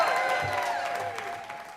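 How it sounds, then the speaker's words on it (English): Audience applause at a screening event for a Fargo trailer, a short burst of dense clapping from a crowd that tapers off slightly, with a faint voice underneath. "So please applaud both Jack Walsh and the trailer for Fargo!"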